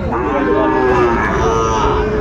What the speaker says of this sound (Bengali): আচ্ছা, আমরা দেখছিলাম এই গরুটি